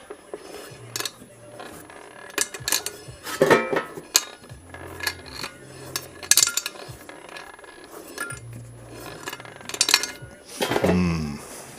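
A loose bike part rattles with irregular metallic clinks and knocks, some sharp and close, scattered in uneven clusters with a louder burst near the end.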